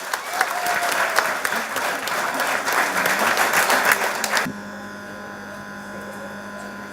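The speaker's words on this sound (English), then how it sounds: "Give a big applause." Dense applause from an audience at an International Day of Peace gathering, loud and steady for about four and a half seconds before cutting off to a low room hum.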